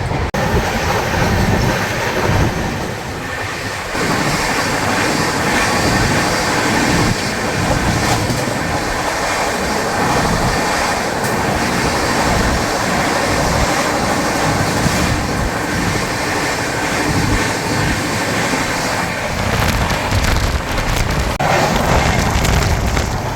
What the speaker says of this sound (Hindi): चलिए दिखाता हूँ श्रीधाम एक्सप्रेस का ओवरटेक